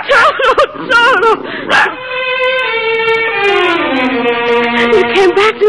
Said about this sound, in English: there's a little brown and white dog looking all over for you